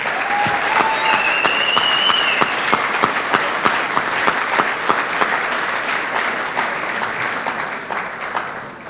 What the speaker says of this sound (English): Let's have a big round of applause for Herb Chambers.